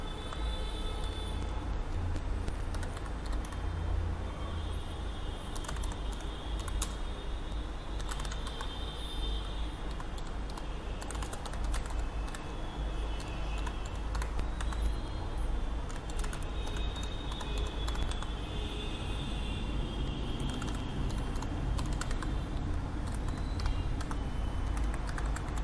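Steady rapid clatter of keys as an address is typed on a computer keyboard while filling out a PAN card application on the CSC portal, continuous close taps with brief pauses and no talking.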